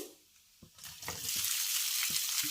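A loud sizzle rises as steamed muthiya hit hot tempering oil and keep hissing steadily, with a few stirring knocks underneath.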